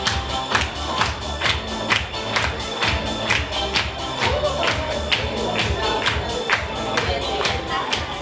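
An audience at a children's festival awards ceremony gives sustained applause, steady rhythmic clapping with crowd noise and occasional cheers throughout.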